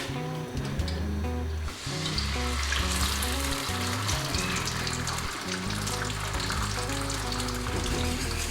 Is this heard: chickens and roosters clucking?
no